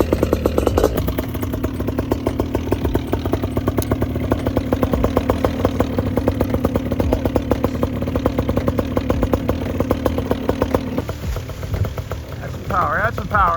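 A Cosmos 300 cc engine on a Kraft tandem paramotor runs close by with a loud, rough, rhythmic clatter, steady for most of the time before easing off, while people talk over it.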